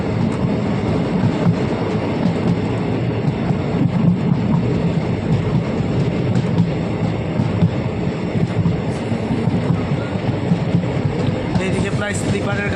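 A train on the Gangarampur to Balurghat line rolls into Balurghat station, a constant loud rumble and rattle of wheels and cars with wind buffeting the microphone throughout.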